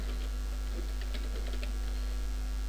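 Quick, light keystrokes on a computer keyboard while a new folder is being named, a short run of soft clicks over a steady low electrical hum.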